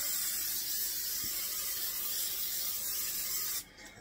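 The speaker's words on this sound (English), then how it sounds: "first thing that we need to do is spray our pan really," A steady aerosol hiss of cooking spray into a cast iron pan runs for several seconds, close and continuous, then cuts off abruptly near the end.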